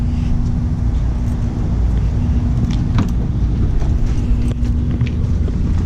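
A Nissan 350Z with no front bumper rolls into a shop, its low engine rumble steady and fairly loud throughout, with a faint hum and light rattles on top.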